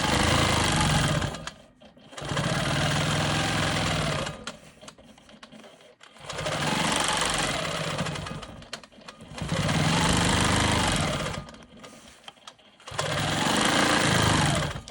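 Quilt Maker Pro 20 longarm quilting machine stitching straight ruler-work lines across green quilt blocks, a loud steady motor-driven stitching buzz in four long bursts separated by short pauses, no talking.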